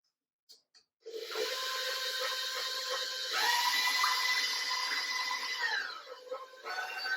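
Sticky challah bread dough is worked in a bowl, giving a steady close-up rubbing and scraping sound that runs for several seconds without a break.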